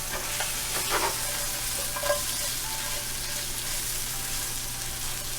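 Shrimp frying in a pan for chow mein, a continuous hiss of sizzling oil with a few soft stirring scrapes early on and a low steady hum underneath, close and moderate in level.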